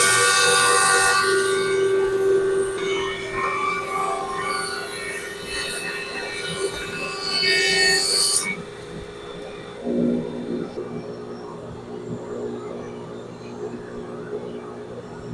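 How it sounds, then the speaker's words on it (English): An Oliver 10055 thickness planer making a 1/16-inch cut on walnut runs with a loud steady whine and hum that ends abruptly about halfway through, leaving a quieter motor drone and room noise. "that was a 16th inch cut on walnut, and it didn't even bog that motor down a little bit"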